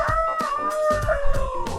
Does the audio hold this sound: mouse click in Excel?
no